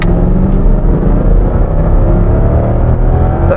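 A 2007 Lexus LS460 long-wheelbase sedan accelerates with a loud, steady engine rumble and a rising whir heard from inside the cabin.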